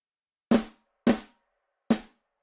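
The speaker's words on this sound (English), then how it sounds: "So without the EQ, it sounds like this." Three separate MIDI snare drum hits, unequalized, played alone at uneven spacing, each a full-bodied crack with a quick decay and close, dry character.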